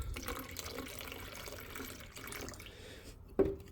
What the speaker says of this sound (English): if I just add water